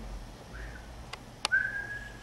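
A person whistles a steady tone meant to mimic a telephone line tone, a brief faint rising whistle followed by a clearer sustained note after two small clicks, close and alone.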